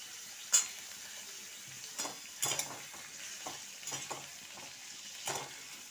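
Garlic cloves and small pieces of ginger fry quietly in a pan, a faint steady sizzle broken by several sharp stirring scrapes and clinks of a spoon against the pan, heard close with no talking.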